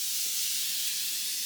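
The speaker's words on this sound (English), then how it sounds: "let's do some setting spray" Makeup setting spray misting from a bottle, a steady close hiss lasting about a second and a half, alone without talk.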